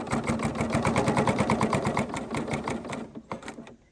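A serger runs steadily at speed, stitching through a quilt, with a fast even mechanical chatter up close before slowing and stopping in a few final stutters.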